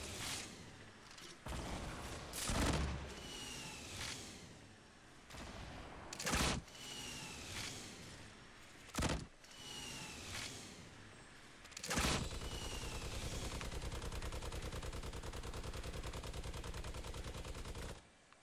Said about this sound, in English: Shooting the rocket launchers, a great way just to enjoy the game.